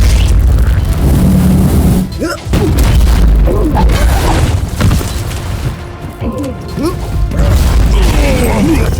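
A loud blast as the Tarantula turret is blown apart in Warhammer 40,000: Inquisitor – Martyr, with booming crashes and rumbling battle noise throughout, and a voice talking over the chaos.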